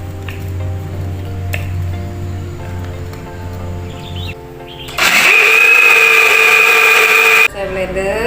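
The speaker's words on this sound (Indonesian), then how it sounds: "Saya blender." Electric blender grinding spices for red sambal, a loud steady whirring motor that starts abruptly after quieter kitchen clatter and talk, runs for a couple of seconds, then cuts off.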